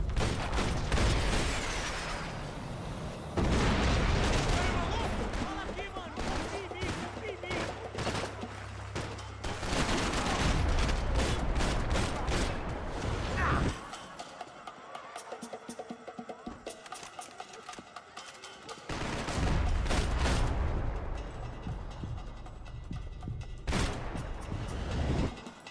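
Rocket launcher blasts and heavy gunfire in Max Payne 3, loud and dense fusillades with booming impacts, a quieter lull in the middle, then renewed shooting; someone talks briefly over the action.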